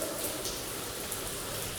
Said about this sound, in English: Here is rain.